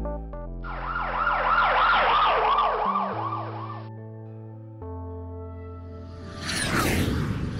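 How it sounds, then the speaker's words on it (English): An ambulance siren wails loudly as it passes close by, its repeating rising-and-falling tone dropping in pitch partway through, followed by a rushing whoosh as the vehicle goes past. "Imagine that an ambulance is approaching you. The sound of the ambulance's siren is high-pitched."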